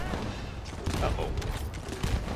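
A tactical rifle fires in the shooter game The First Descendant, with quick bursts of sharp shots over a busy low rumble, a voice briefly talking underneath.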